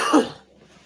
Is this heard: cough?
yes